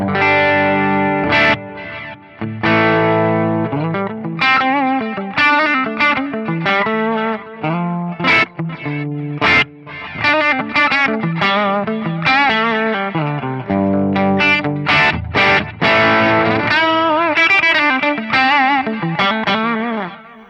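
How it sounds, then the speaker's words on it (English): An electric guitar plays through a spacious, washy multi-tap delay on a Fractal FM3; repeated notes trail and blur into one another, sounding almost like reverb, loud and continuous. "there's a really lovely ambient delay that almost borders on a reverb"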